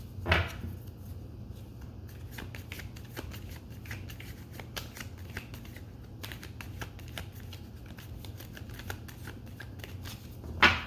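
Tarot cards being shuffled during a card reading give a close, steady flutter of soft riffling and tapping, with a few louder card slaps at the start and end and no talking.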